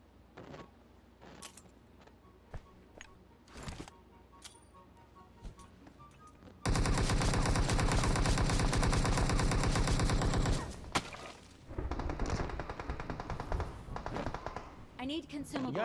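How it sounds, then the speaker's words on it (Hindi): Loud sustained automatic gunfire in PUBG Mobile fills several seconds, preceded by scattered single shots and followed by further bursts, with a player talking over it. "लेफ्ट ही बंदे पागल फायरिंग कर रहे हैं उन पे"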